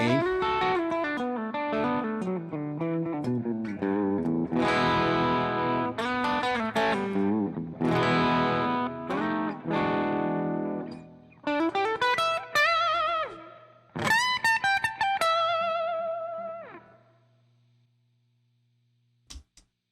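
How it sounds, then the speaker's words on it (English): Electric guitar through a distortion effect with added gain, strummed chords and single-note runs ringing with a sustained, gritty tone, then a few sharp picked notes before fading to silence. "A little bit of distortion."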